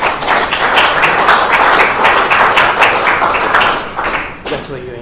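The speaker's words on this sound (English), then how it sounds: "Give him an applause." An audience at a vocational service award meeting claps for an award recipient, sustained dense applause filling the room and fading near the end, with some voices mixed in.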